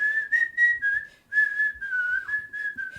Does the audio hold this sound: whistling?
yes